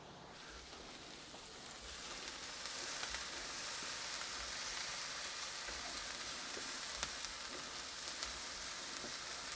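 Meatloaf ingredients brown in a frying pan, a steady soft crackling sizzle that runs evenly throughout with faint spits, close and quiet with no talking.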